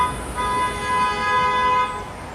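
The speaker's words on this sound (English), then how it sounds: "Wouldn't be New York without honking." A single car horn blasts steadily for about two seconds on a busy Brooklyn street in New York, loud and close over traffic noise.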